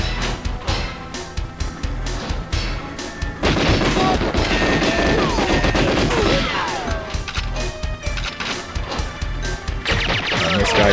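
Gunfire in the video game GoldenEye 007 during the Frigate, Surface and Bunker missions: dense, continuous bursts of rapid shots and crashing impacts, loud and steady throughout the whole stretch with game effects layered in.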